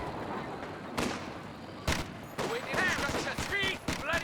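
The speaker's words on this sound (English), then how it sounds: "Cherry infantry firing at us!" Infantry rifle and machine-gun fire in a Company of Heroes 2 multiplayer battle, sharp bursts cracking out at intervals over a busy battlefield bed, with a voice commentating over the shooting.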